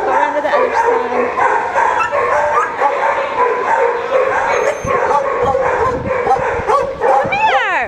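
Beagle and Walker coonhound mixes and other mutts barking, yipping and whimpering together at a rabies-control facility in Jackson, Tennessee, a close, continuous chorus of overlapping cries with a person talking among them.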